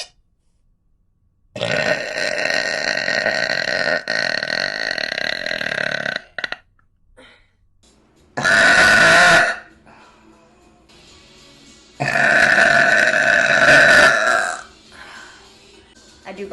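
Loud, close belches from a woman relieving huge burps while livestreaming, three long bursts separated by short pauses, the first and last lasting several seconds each.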